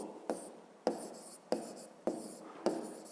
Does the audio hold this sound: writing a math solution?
yes